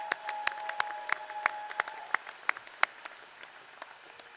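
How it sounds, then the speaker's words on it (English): Sparse, scattered claps from a commencement audience at a graduate ceremony, a handful of distinct hand claps popping out over a low background hum and thinning toward the end. "let's give them another round of applause out there too."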